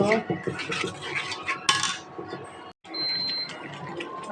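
Curry cooked with coconut milk in a pot, with busy clattering and scraping of a metal utensil against the pot, a brief pause, then more clinking and stirring.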